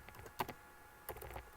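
A few quiet keystrokes on a computer keyboard, two short clusters of clicks separated by a pause, close and faint with no talk.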